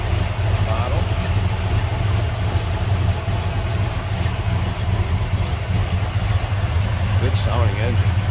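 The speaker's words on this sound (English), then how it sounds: "Good sounding engine. Little rumble out of that one." A 1956 Chevrolet 210 two-door post with a Holley carburetor, Edelbrock intake manifold and headers idles with a steady low rumble close by, and a voice talks briefly over it.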